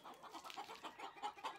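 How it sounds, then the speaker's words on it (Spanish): A small English hen with green legs clucks softly in a short run of low murmured notes. The clucks are faint, with no talk. "Aquí hay una gallinita inglesa, pata verde."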